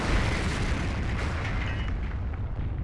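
A tank firing in the Forgotten Hope 2 video game, set on Gold Beach, produces a loud, sustained booming blast that rumbles and decays over a few seconds, with no talking.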